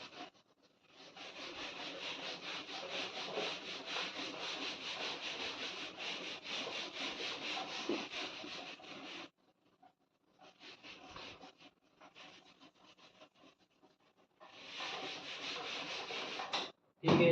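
A board is erased by hand in long stretches of steady, scratchy rubbing, close and moderately loud, broken by a pause with a few shorter strokes before the rubbing resumes.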